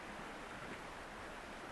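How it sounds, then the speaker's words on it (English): A forest river flows as a steady, even broadband rush, faint and continuous throughout with no voices. "I have the river here as background noise"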